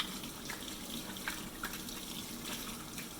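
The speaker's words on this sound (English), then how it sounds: "Another thing that you can do is just go wash my hands again" Water runs steadily from a kitchen tap while hands are washed during home meal prep, a soft continuous stream with faint splashes, close by and without voices.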